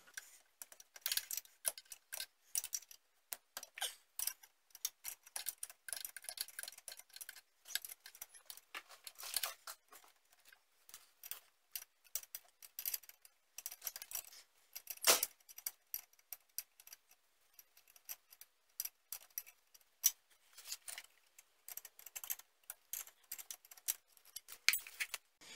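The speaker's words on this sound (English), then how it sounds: "You're going to take them off with a 13 millimeter wrench." Faint, close metallic ticking and clicking from a 13 mm wrench working the brake caliper bolts loose on a Jeep Cherokee XJ. The ratcheting taps come in irregular bursts over a quiet garage background.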